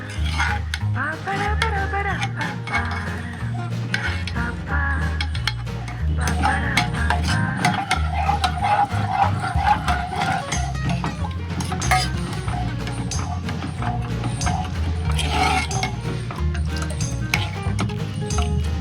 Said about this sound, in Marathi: मी पाणी मिक्स करते आणि कंटिन्युअसली हलवत राहायचंय